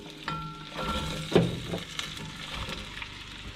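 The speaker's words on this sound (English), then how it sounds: "We're just going to dump those right in the pan." Chopped apples tipped into a hot Lodge cast iron pan with half a stick of melted butter: a soft thump as they land, then a gentle, low sizzle close by.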